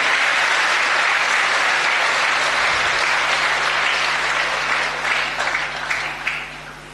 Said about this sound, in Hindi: एक बार जोरदार तालियां इस व्यक्ति के लिए होनी चाहिए